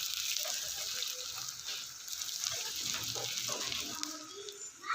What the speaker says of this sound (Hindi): इनको अब मैं इसमें शामिल कर दूँगी प्याज जो क्रश किया हुआ है, और 2 मिर्चें सब अच्छे से इनकी भी भुनाई कर लेंगे।